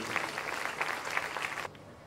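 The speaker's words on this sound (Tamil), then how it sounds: "ஒரு பலத்த கைத்தட்டல், வாழ்த்துக்கள், நன்றிகள்" At a Catholic feast Mass at Our Lady of Glory Shrine in Pulicat, the gathering claps for the media crew in a short, moderately loud round of applause that stops abruptly near the end.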